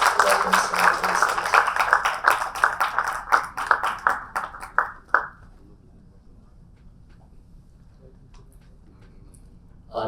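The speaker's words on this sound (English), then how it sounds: "Can we have a big round of applause, please?" An audience at a live app launch event at a hotel claps in a burst of applause that fades out after about five seconds, leaving near silence with faint room noise.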